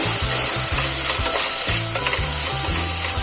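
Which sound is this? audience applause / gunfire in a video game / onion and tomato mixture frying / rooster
onion and tomato mixture frying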